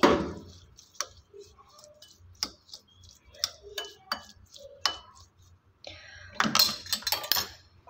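A spoon clinks and scrapes in a bowl as red chili powder and spices are mixed for microwave dal tadka, giving a run of close, irregular taps and clinks with short pauses and a busier burst near the end.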